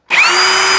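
A Ridgid cordless drill running on a 2 amp hour battery spins up abruptly and holds a loud, steady high-pitched whine, heard up close with no talking.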